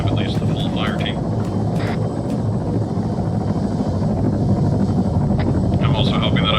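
A helicopter setting down near a road in Arma 3, its continuous rotor drone and wind roar loud and steady, with a voice speaking over it at times.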